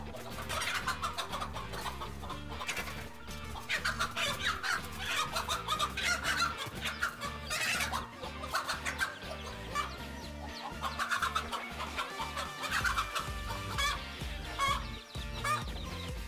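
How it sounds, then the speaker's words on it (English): A mother hen clucks loudly and steadily while fighting off a king cobra to protect her chicks. The busy agitated calls come close and continuous, with scuffling beneath them. "a hungry king cobra tried to sneak up on a mother chicken and her chicks"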